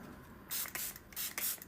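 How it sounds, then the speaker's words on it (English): ColourPop Pretty Fresh setting spray mists onto a face in four quick hissing bursts, close to the microphone in an otherwise quiet room. "I'm going to use my ColourPop Pretty Fresh Hyaluronic Peptides and Niacinamide setting spray because I need to keep the glow."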